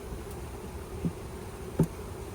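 Honey bees hum faintly and continuously around brood box frames, with a couple of brief louder buzzes as individual bees pass close.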